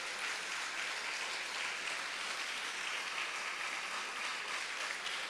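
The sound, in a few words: audience applause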